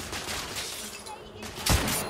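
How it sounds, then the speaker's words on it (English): Gunfire from the video game The Order: 1886, a quick cluster of sharp shots ending in a louder close blast, set in a dense combat mix. "Okay, I shot you like 5 times."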